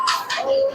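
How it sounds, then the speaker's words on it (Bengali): A Kaldoma pigeon at a pigeon sale gives a single close, soft cooing call, clear and alone. "খুবই ভালো জেনারেশনের কবুতর রয়েছে।"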